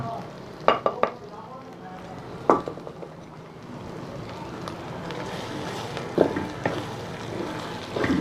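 Tomatoes go into a pan of frying masala for a potato-and-egg curry, giving a steady sizzle with a few sharp clatters and stirring knocks.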